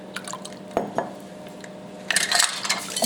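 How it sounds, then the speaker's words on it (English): Vegan wet ingredients with sugar and apple cider vinegar being mixed in a bowl, with a few clinks and light liquid sloshing close by, then a busier stretch of stirring. "And mix it up, trying to dissolve the sugar."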